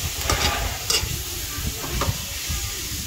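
Chili and vegetables for chopsuey sizzle steadily in a hot pan, a close hiss broken by a few sharper stirring scrapes and pops.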